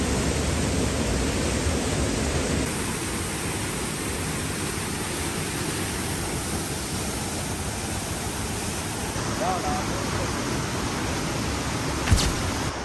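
Waterfall in Basse-Terre, Guadeloupe, known for its crayfish, rushing as a steady broadband roar that stays constant and fairly close throughout, with no voices over it.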